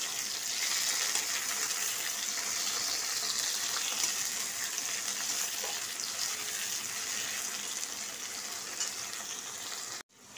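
Onions and quartered tomato fry in a pan, a constant close sizzle and hiss that holds steady for about ten seconds before cutting off abruptly.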